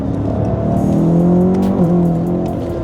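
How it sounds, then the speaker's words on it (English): A rebuilt, tuned BMW M5 engine pulls at wide open throttle on the road in a tall gear, a loud, sustained, rising drone heard up close throughout. "we're just gonna run through the taller gears, 4 and 5th, wide open throttle"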